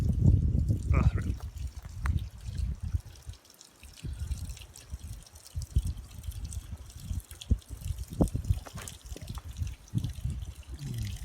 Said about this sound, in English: You have to wet the cement.